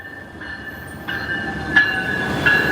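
An Amtrak passenger train hauled by locomotives rolls past with a steady rumble, a sustained wheel squeal and several sharp rail clanks as cars cross joints.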